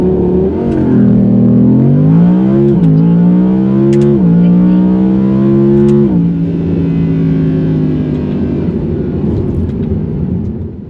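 Factory Audi R8 V10 launching to 60 mph in performance mode with manual shifting, a loud, close engine roar climbing in pitch, dropping at each of several quick upshifts, then settling into a steady drone.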